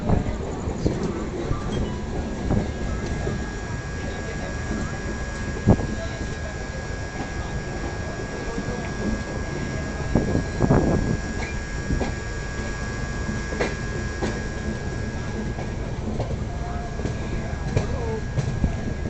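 Andhra Pradesh Express rolling across the diamond crossing outside Nagpur Junction, a steady rumble of wheels and cars with scattered clacks, heard from on board over continuous background noise and occasional talk.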